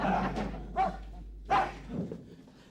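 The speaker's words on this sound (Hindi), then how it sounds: "ये पांडे का कुत्ता अपने आप को समझता क्या है?" A dog in a house lets out several separate barks and yips, spaced about half a second apart, fairly close and clear with no talking over them.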